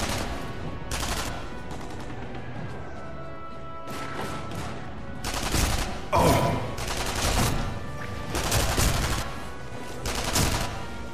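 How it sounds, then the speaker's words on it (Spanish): Repeated bursts of gunfire in the video game Sniper Elite V2, loud and close, coming in several clustered volleys over a steady game background, with no talking. "Escucho, ¿no? Que disparan"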